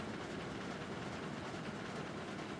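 Trains roll along the track in the game Railroads Online, a steady rumbling clatter of wheels and cars that carries on unbroken and fairly loud.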